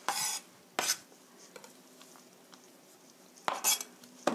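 A knife chops onion on a board for a spicy fried chicken sauce: a few sharp, close knocks in two small clusters, separated by a long quiet stretch.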